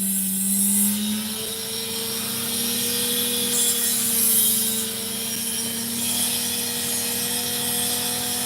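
A Dremel rotary tool cutting opal gives a steady, moderately loud motor whine for the whole stretch, its pitch dipping slightly at first and then holding with faint wavering, with no voices over it.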